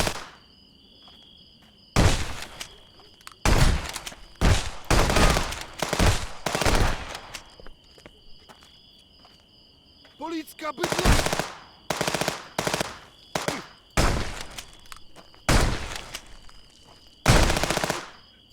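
Gunfire in the video game Contraband Police, loud close bursts of rapid automatic fire in repeated volleys separated by short pauses, over a steady high insect-like background whine.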